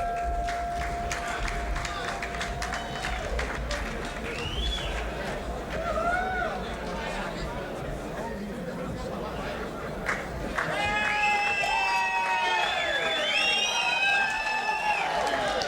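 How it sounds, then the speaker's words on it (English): Boxing arena crowd in Houston at a full fight, a sustained roar of cheering and chatter with scattered whistles and applause, steady and fairly loud throughout, swelling slightly toward the end. "Somewhat appreciative crowd here for the Ritz girls."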